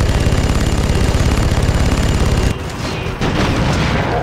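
Gunfire in the Red Faction 2 game as pistols fire at a tank: a rapid, loud, pulsing burst of shots that cuts off abruptly partway through, leaving a rumbling game ambience with a few scattered impacts.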